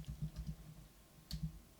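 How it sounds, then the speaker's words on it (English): Quiet keystrokes on a computer keyboard, two short bursts of clicks separated by a pause, picked up close by a USB microphone at a desk. "So I'm just typing"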